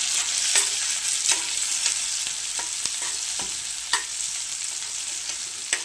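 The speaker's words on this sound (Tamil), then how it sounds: "அது கூடவே ஒரே ஒரு சின்ன தக்காளி சேர்த்துருக்குறேன். சேர்த்து இதையும் நல்லா வதக்கிக்கலாம்" Tomato, onion, chili and garlic sauté in an oil-filled pan for a homemade garlic chutney, giving a steady close sizzle broken by repeated scrapes and clicks of a stirring spoon, with no talk.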